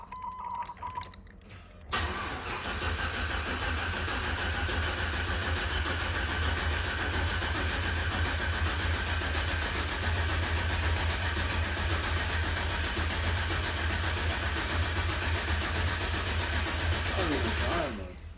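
A Chevrolet El Camino Conquistador that has sat for a while with stale gas cranks, then catches and runs steadily at a loud, close idle-to-fast idle that continues to the end, with people talking near it.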